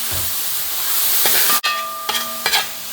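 Crushed coconut sizzles in hot ghee in a pan while a sweet payasam is prepared, a steady close hiss broken by sharp clinks of a stirring spoon.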